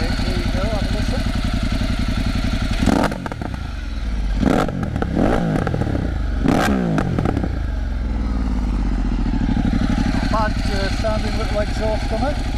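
A Ducati Multistrada 1260 S with a full Termignoni exhaust idles with a throaty note, then blips sharply in three loud revs before settling back to a rumbling idle; a voice talks briefly near the end.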